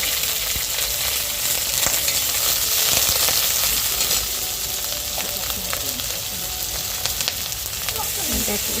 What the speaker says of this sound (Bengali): তেলটা গরম হয়ে গেছে এবারে চিংড়ি মাছগুলো দিয়ে দেবো